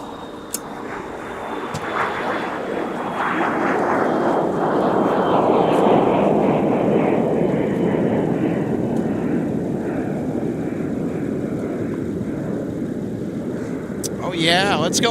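An airliner roars down the runway and climbs away at a snowy winter airport, a broad engine rumble swelling and then holding steady, with a person talking over it.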